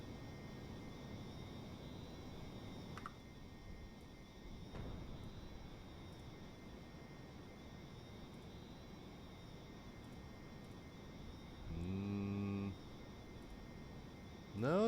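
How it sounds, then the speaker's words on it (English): Aircraft engines running in a flight video game, a steady low droning rumble with a brief higher tone near the end, fairly faint throughout. "I hear those engines starting to slow down"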